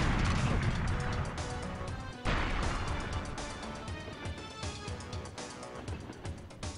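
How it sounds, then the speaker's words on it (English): Rocket launcher blasts destroying crates in GoldenEye 007 on the N64, a series of loud booming explosions and crashing impacts, with a voice talking over the noise. "Man, it's fun blowing up all these crates with a rocket launcher"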